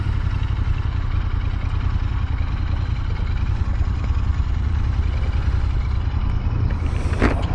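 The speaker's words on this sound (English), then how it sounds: "this bike is a little bit quicker than I thought it was going to be. throttle is nice and responsive" Royal Enfield Continental GT 650 motorcycle on the move, a loud steady engine drone under heavy wind rush, with a brief sharper burst near the end.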